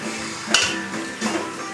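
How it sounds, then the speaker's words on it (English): A spoon clinks against a pot while onion rings are stirred, producing two brief metallic scrapes and taps over a steady background hum. "Gotta give these onion rings a stir."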